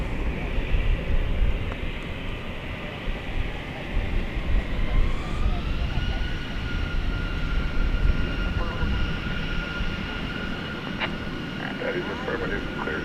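An airliner taking off at DFW Airport, a distant roaring jet engine with a whine that climbs in pitch midway through, heard under faint background chatter and other ambient noise.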